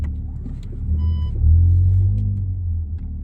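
An Audi TT with a custom valved quad exhaust manoeuvres at low speed nearby, its deep steady rumble swelling briefly before settling back, with no one talking.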